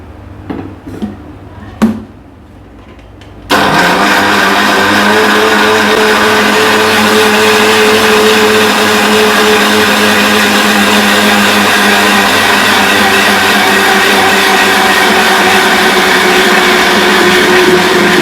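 A kitchen mixer grinder grinds soaked garlic and black pepper with a little oil for homemade mayonnaise, starting after a few faint knocks with a loud, steady motor whir that runs unbroken and close for the rest of the clip.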